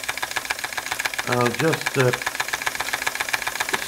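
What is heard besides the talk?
old Bing vertical steam engine running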